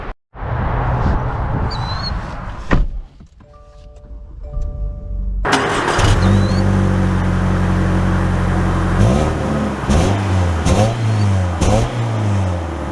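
A 2024 Subaru Impreza RS starts after a few soft warning chimes, then idles and pulls away, the engine rising and falling loud and close through several accelerations.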